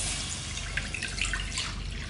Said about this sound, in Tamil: இப்போ நான் எடுத்து வச்சிருந்த பாலு தண்ணி கலவை ஊற்றிக்கிறேங்க.